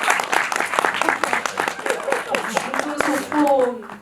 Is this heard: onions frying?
no